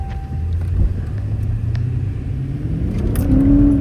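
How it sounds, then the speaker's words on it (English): A Dodge Charger Scat Pack pulls away on a test drive, its engine rumbling low and close, then revving up near the end with a rising whine. "Alright, first test drive, let's go."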